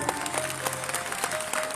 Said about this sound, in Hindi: एक बार इनमें से जोरदार ताली मारो